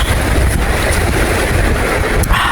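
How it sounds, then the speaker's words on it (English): Strong wind roars steadily and loudly throughout on the North Coast 500 in northern Scotland in February, a dense broadband rush with low rumbling buffeting, and no voices. "Very windy out there"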